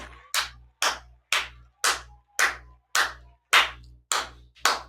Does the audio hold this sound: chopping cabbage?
no